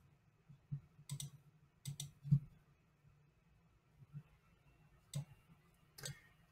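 Several sharp mouse clicks sound while a photo file is chosen and uploaded on a computer, spaced irregularly across a quiet background, some in quick pairs and others alone.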